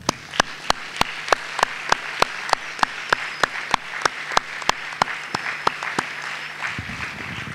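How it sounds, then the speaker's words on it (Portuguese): An audience in a parish auditorium claps in unison, sharp and evenly spaced at about three beats per second. The rhythmic clapping runs for roughly seven seconds, then breaks off. "vos dê uma grande salva de palmas"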